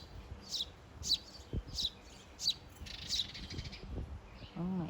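Baby birds chirp near their mother bird, giving a series of short, high, fairly faint tweets about every half second against quiet background rustling.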